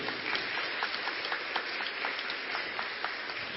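A church congregation claps during a Catholic sermon, a quiet, somewhat distant patter of hands with faint rhythmic peaks, lasting a few seconds with no talk over it.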